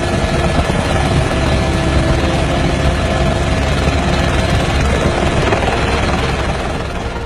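A helicopter hovers close by during a rescue landing near a mountain cliff edge, its rotor and engine making a loud, steady, dense roar that fills the whole clip without a break.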